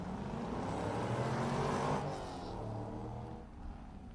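Number 154 Corvette race car accelerating on the Daytona autocross course, engine rising in pitch then fading as it pulls away, moderately distant.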